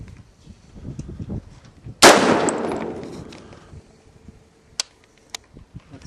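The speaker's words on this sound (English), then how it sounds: "A little hard to shoot it in a rifle vise when it's a pistol." A single loud 5.56/.223 pistol shot fired from a rifle vise cracks sharply after a quiet stretch and rings off in a long decaying tail, followed by a couple of faint clicks.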